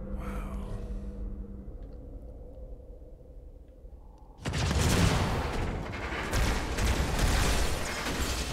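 Explosions and gunfire in the Halo 2 video game, a dense, loud barrage of blasts that bursts in after a quieter stretch of low game ambience and keeps rumbling on.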